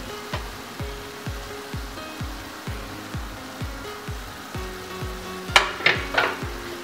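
Ground beef sizzling in a pan while a spoon stirs it with steady, rhythmic scrapes about every half second, the frying hiss continuous underneath and a few sharper clinks of utensil on pan toward the end.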